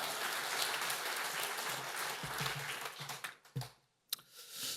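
Congregation at a church prayer service applauds warmly, a dense clapping wash that thins out and breaks into a few scattered claps before a brief pause and a final short burst.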